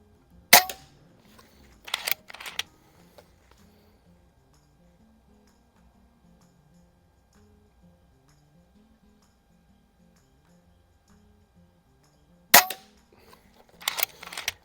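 Umarex Zelos .22 caliber PCP bullpup air rifle firing at an outdoor range: a sharp crack near the start, a couple of follow-up clicks and clatters, a long quiet stretch, then another crack with mechanical clacks.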